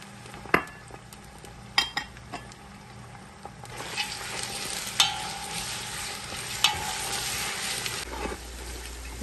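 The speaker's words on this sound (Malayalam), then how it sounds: "എടുത്തു വെച്ചിരിക്കുന്ന കാന്താരി മുളക്, ഇഞ്ചി, വെളുത്തുള്ളി ഇതെല്ലാം കൂടി ഇട്ടൊന്ന് നന്നായി വഴറ്റിയെടുക്കും." Bird's eye chillies, ginger and garlic sauté in a pan, a steady sizzle that swells partway through, broken by several sharp scrapes and clinks of a spoon against the metal.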